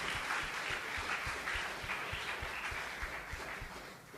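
Applause from a church congregation fills the space steadily, a dense wash of many hands clapping at a moderate distance with no voices standing out.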